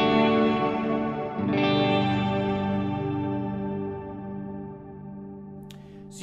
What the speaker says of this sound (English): So you can hear that added delay and reverb ambience in there.